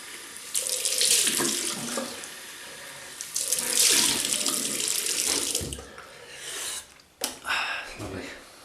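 Tap water gushing into a sink to rinse a Fatip Piccolo open comb double-edge razor, a loud close splashing stream in several bursts, briefly cut off and restarted, with faint breathing between.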